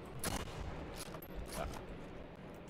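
Several sharp gunshots from the online shooter game Heroes & Generals, a few spaced bursts at moderate distance, fairly quiet in the mix.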